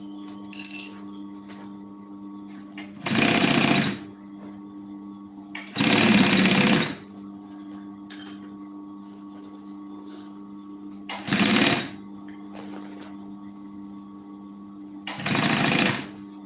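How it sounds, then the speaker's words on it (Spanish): A sewing machine stitches a puffer backpack's gusset to its front piece in four loud, close bursts of rapid whirring, separated by quieter pauses with a steady background hum. "Acá vamos a ir cosiendo, uniendo el fuelle con la pieza delantera."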